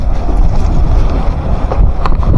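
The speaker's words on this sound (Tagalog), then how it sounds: "Opo, lakas ng hangin." Loud wind buffets the microphone in continuous low roaring gusts, with no voices heard.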